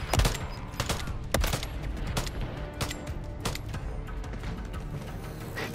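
Gunfire rings out in a video game firefight on the Shipment map, a string of sharp, loud shots at an uneven rapid pace over constant background battle noise.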